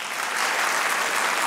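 A studio audience at a Pakistani comedy talk show bursts into sustained, even applause, a dense wash of clapping that holds steady at full level with no voices on top.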